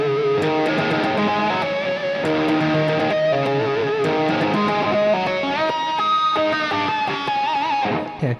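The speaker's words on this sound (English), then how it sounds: "Just a slight echo." An electric guitar plays a sustained melodic line with a subtle echo delay effect, each note trailing a faint repeat, loud and continuous with no talking.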